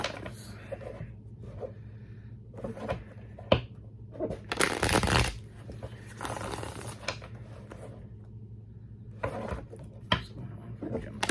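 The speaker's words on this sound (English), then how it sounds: "I'm going to use the basic Rider Waite Tarot." A deck of Rider Waite tarot cards is shuffled close up, giving soft repeated riffling and flapping with one louder burst of rapid card riffle partway through, quiet and without talk.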